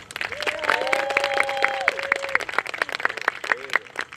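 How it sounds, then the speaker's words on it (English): Applause and clapping from a crowd at a high school girls' soccer senior-night ceremony, steady moderate clapping with whistle-like tones and some voices underneath, tapering toward the end. "Give a warm round of applause for senior number 21, Addison Tiller."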